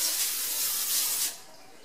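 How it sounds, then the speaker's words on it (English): A short burst of cooking spray hissing steadily onto a baking sheet for over a second, then cutting off, close and fairly loud. "now I'm going to go ahead and spray my sheet"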